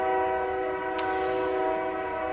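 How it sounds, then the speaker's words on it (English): Train passing near a room, its horn sounding as a sustained steady multi-tone blast held throughout, loud and close, with a short hiss partway through. "Sorry about the train. It's, all, it's always so loud in here."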